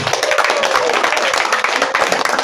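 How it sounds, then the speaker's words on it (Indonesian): An audience at a regional children's quiz competition gives an encouraging round of clapping. Many hands strike fast in a loose, rhythmic patter, lively and close, with faint voices mixed in. "Kita kasih tepuk semangat dulu untuk grup C"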